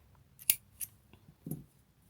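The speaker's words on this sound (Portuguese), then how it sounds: "Vamos cortar o fio." Scissors cut crochet yarn while an amigurumi keychain is being made, with a few quiet, close snips and clicks spread over a couple of seconds in an otherwise silent room.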